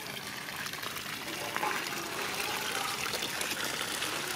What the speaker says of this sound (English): you can see here, with a lot of water is a flow out